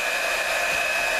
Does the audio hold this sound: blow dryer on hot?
yes